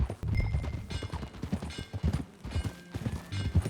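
Horse hooves in the Red Dead Redemption 2 video game pound out a fast, rhythmic clip-clop of galloping, loud and close under a busy bed of game ambience.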